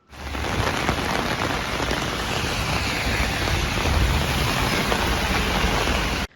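Heavy rain pours down steadily during a storm on the Tekirdağ coast, a dense, continuous hiss that stays loud and even throughout.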